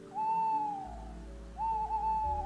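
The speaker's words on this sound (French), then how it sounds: "Un hibou ulule dans l'obscurité." An owl hoots twice in the dark, each a drawn-out wavering call with a pause between, set against a quiet nighttime background.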